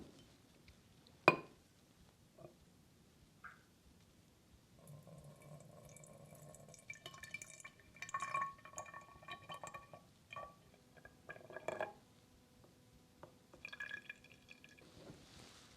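Caramel brulee sauce is poured from a pan into a glass bottle in a kitchen, giving a soft trickling liquid flow with light drips and a few clinks of glass, fairly quiet and close with no talking.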